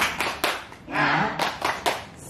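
A group claps a spirited rhythmic cheer, a few sharp bursts of hands with voices shouting in between, lively and close, at a community recycling workshop.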